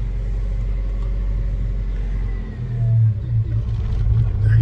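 A manual-transmission car's engine idles with a steady low rumble, then deepens and swells into a louder, wavering drone as gas is added and the clutch is let out slowly.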